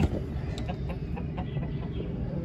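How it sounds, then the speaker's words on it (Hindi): A brown hen and a rooster cluck close by, with a run of short, repeated clucks over a low farmyard background. "वो हमारा सील मुर्गा और ये ब्राउन वाली मुर्गी।"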